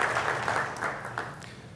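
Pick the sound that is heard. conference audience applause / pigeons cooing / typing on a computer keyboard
conference audience applause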